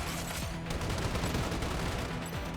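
Rapid gunfire from a shooter video game, Strinova, rattling in dense bursts with game effects layered around it for the whole stretch, loud and close.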